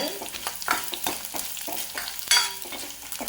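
Ginger and other chutney ingredients sauté in a pan with a steady sizzle and frequent scraping stirs from a spoon, close and moderately loud, with no talking.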